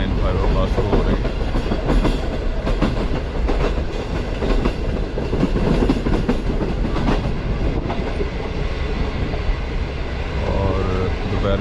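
Green Line passenger train running on rails between Rohri Junction and Lahore Junction, a loud continuous rumble with rhythmic clickety-clack of wheels heard from inside, with faint voices underneath.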